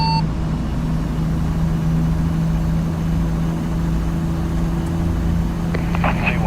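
A Caterpillar C15 truck engine in American Truck Simulator holds a steady, low, droning rumble with a constant tonal hum, loud and close, and a faint rattle near the end.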